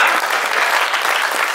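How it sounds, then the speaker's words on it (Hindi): Audience applause at a Hindi comic poetry gathering, a short burst of steady, dense clapping from a crowd at close range. "तालियां कमजोर है आपकी।"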